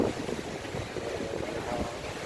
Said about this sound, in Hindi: यहाँ एकदम पूरा समंदर उफान पे है, एकदम जोरदार करंट है।